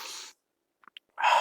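A single sneeze, a quick sharp burst with a faint catch of breath just before, standing alone between stretches of talk at the start and end.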